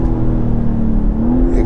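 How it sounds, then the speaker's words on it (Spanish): A 2020 BMW X3 M40i engine hums and rises in pitch as it revs, steady and close, with a faint whine building toward the end. "escuchar el sonido del motor es brutal"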